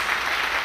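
Church congregation breaking into applause, a brief dense burst of many hands clapping with a blurred, roomy sound.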